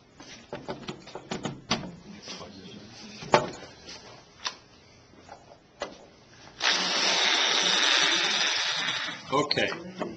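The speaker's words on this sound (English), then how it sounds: "with this drill" A power drill whirs steadily for a few seconds after a stretch of clicks, taps and knocks, with workshop handling noises around it.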